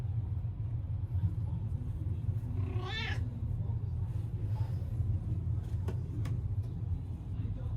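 A stray cat in a neighborhood gives one clear, rising-and-falling meow at a door, moderately close, over a steady low outdoor rumble.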